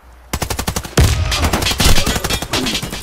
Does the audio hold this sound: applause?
no